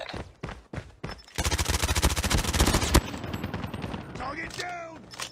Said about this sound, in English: Hostile sentry gun spotted.